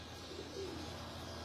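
Pigeons on a Lahore rooftop give soft, faint cooing, low and murmuring against a quiet background.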